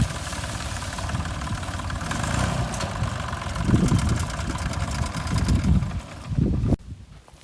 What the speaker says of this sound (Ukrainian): Розвертається тракторист.